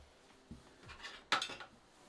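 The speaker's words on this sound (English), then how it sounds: "I guess I need a spoon, right? We need to stir this." A metal spoon clinks and scrapes against a vessel while stirring a mix for a Weber Workshop KEY coffee grinder, with a few soft taps and then a brighter clatter.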